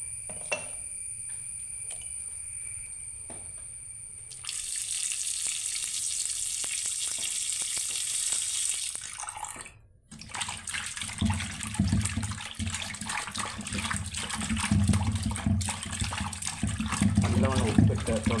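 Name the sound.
water running while washing fish with salt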